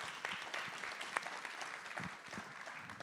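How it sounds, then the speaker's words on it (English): Audience applause at a city council candidate forum, a steady, fairly faint patter of many hands clapping in a room. "I would hope after this point that you would hold the applause"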